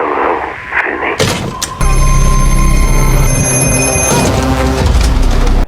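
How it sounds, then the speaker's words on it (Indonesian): A public payphone outside a dormitory area rings loudly and steadily, with sustained bell-like tones starting after a few muffled thumps and continuing to the end. "Vinny mulai diganggu oleh dering telepon umum di luar area asrama"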